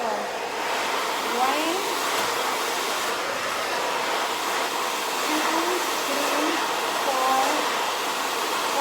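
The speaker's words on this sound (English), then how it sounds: "This is the way you blow dry the hair." A hair dryer blows steadily on long hair at close range, a constant loud airflow running throughout with a person counting aloud over it.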